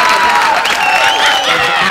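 A studio audience on a TV comedy show bursts into loud, dense applause mixed with cheering and whoops, filling the room continuously for about two seconds.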